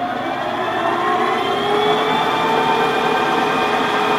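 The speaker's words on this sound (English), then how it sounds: "it's just the back gear noise you're really hearing." A Monarch 10EE lathe runs in back gear with a steady, even whirring hum and a faint whine on top. It is continuous and fairly loud with no talking.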